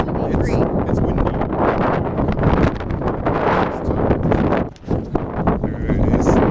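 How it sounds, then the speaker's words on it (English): Wind gusts buffet the microphone outdoors at a desert ghost town, a steady loud broadband roar with brief dips, filling the whole stretch. "It's windy."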